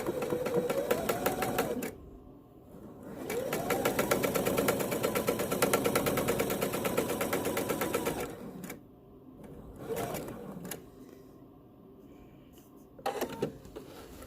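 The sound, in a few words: sewing machine straight stitch with shortened stitch length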